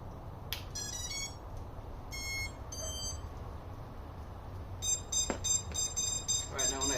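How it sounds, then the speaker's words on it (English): Electronic beeping from a freestyle drone with no radio signal, repeated tone bursts at intervals over a low hum, with faint background noise. "when I hook it up without any internet, with any radio signal, it's going to start beeping like that"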